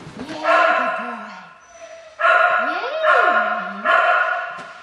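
A dog barks and yips in short bursts during agility cross-training, loud and close, with whining pitch slides between barks; a handler's voice is heard around the barking.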